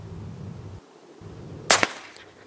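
A single sharp shot from an FIE .22 LR pistol fired at a target outdoors, loud and close, followed by a brief echo. Faint background noise comes before it.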